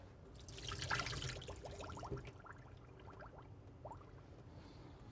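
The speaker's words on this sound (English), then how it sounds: "Take the water out of here." Water drains and trickles from soaked apple pieces in a kitchen, with a soft splashing pour and then scattered small drips, quiet and close.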